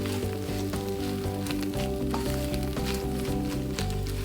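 Shrimp shells toasting in a pan over low heat, a soft continuous crackle and sizzle with light scraping as they are tossed, over a steady low hum.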